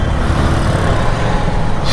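Road traffic stalled in a long jam at a toll plaza on a monsoon highway in Maharashtra, heard as a steady, loud, dense rumble of engines and road noise with no breaks.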